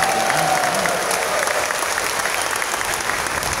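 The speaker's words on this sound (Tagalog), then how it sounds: "pwede bang yung abot hanggang langit sa palakpak?" Church congregation applauding during a Filipino Catholic Mass, a steady, dense wash of clapping that fills the whole stretch, fairly close and full, with a faint voice briefly heard near the start.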